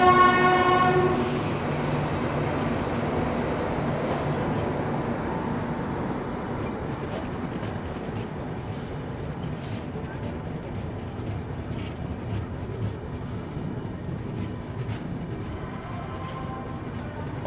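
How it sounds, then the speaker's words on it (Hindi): Interior rumble of a Tirupati–Jammu Humsafar Express overtaking the Agra–New Delhi Intercity Express, a continuous rolling clatter with a horn blast near the start and brief tonal squeals, close and steady throughout. "यहाँ पे हम लोग ओवरटेक कर रहे हैं आगरा नई दिल्ली इंटरसिटी एक्सप्रेस को।"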